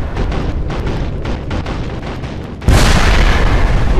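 C4 charges detonate on flak artillery in Sniper Ghost Warrior 2, a sudden loud broadband blast that hits partway through and rolls on as a heavy sustained rumble, preceded by a steadier background din.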